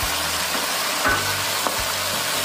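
Sizzling fry of cauliflower in a pan with four medium new potatoes dropped in, a steady hiss broken by a few low thumps and clatters as pieces land and shift.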